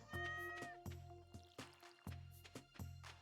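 Short cartoonish cat meows from the farming game Stardew Valley, several quick calls repeating in a steady rhythm over faint melodic game music, close and fairly loud.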